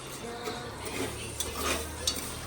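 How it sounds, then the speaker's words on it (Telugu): A thickening dish being stirred in a pan with a spoon, giving soft scraping and occasional clinks against the metal, steady and close, with faint background noise and no talk. "చిక్కగా తిప్పుకోవాలి ఫ్రెండ్స్."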